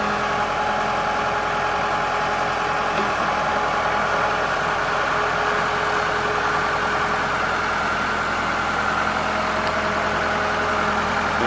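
A 1996 Case 580L tractor engine idles steadily and close, a continuous low mechanical rumble with even tone and no changes in speed, heard alone without talk.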